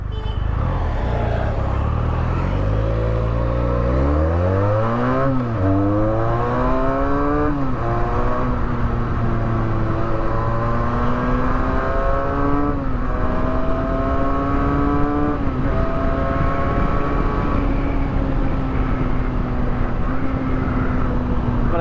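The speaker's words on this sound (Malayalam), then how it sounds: "ഈ ഒരു ട്വിൻ സിലിണ്ടറിൽ 300 cc ആ ഒരു സെഗ്മെൻറ്റിൽ ഇത്രയും സൗണ്ട് വരുന്ന വണ്ടി വേറില്ല" Benelli TNT 300, a 300 cc twin-cylinder motorcycle, revs repeatedly with loud, rising and falling engine pitch sweeps, heard close up and continuous throughout.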